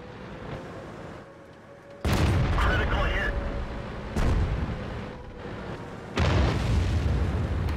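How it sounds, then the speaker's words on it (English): Heavy artillery fire in a video game: three deep, booming blasts spaced a couple of seconds apart, each loud and rumbling before fading, with quieter battlefield ambience between them. "Okay, so that was both of the artillery."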